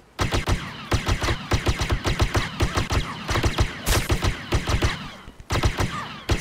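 Rapid gunfire bursts in the medieval combat game Blade & Sorcery, loud close cracks firing in quick uneven volleys with short pauses between strings of shots.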